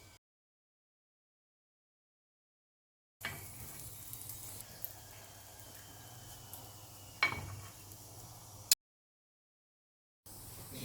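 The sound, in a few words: sweet potato poli sizzling on an oiled griddle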